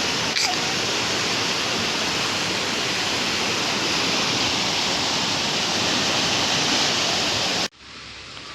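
Loud, steady roar of a swirling, fast-flowing river in Kerala, dense and continuous, cutting off abruptly near the end.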